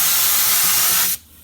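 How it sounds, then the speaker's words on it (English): A spray gun blasts texture adhesive onto a subwoofer box in a loud, steady, close hiss that cuts off abruptly after about a second. "I have the spray gun with the adhesive on it"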